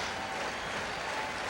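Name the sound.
baseball stadium crowd cheering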